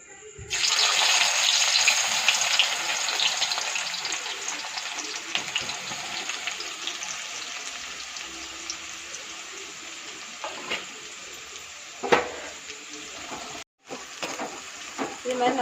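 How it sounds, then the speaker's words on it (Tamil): Sliced onion and garlic fry in hot oil for Burmese atho, a steady loud sizzle that gradually softens, broken by a few clanks of stirring. "இப்போ வந்து ஆனியனையும் நம்ம இந்த பூண்டையும் பொரித்து எடுத்துக்கலாம்"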